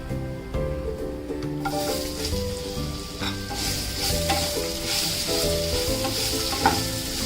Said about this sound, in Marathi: कैरीच्या फोडी अगदी 1 मिनिटभर चांगल्या त्या मसाल्यांमध्ये परतून घेऊया।